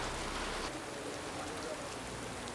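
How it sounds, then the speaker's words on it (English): Rain falls steadily as a dense, even hiss in a scene from the TV series Dark, with no thunder standing out; no one speaks. "Just raining and thunder all the time."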